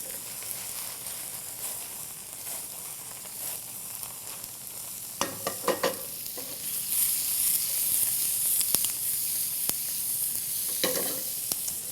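Curried salmon cubes sizzle steadily in a pan as heavy cream is poured in, with a soft continuous frying hiss, scattered clicks and scrapes of stirring, and a brief spike of louder sizzle midway.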